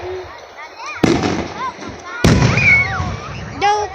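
Loud fireworks bursting outdoors, two sharp booming explosions with crackling tails, while people talk and exclaim in between.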